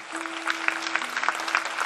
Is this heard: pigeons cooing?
no